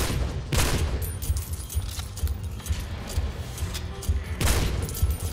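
Gunfire rings out in the video game Soul Slinger: Envoy of Death, a couple of sharp shots landing near the start and again near the end over a continuous clattering, rumbling game background.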